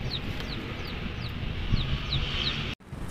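Chickens cluck in short repeated calls, about six evenly spaced bursts, over a low background while feeding on grain outdoors, ending in a brief sudden cutout.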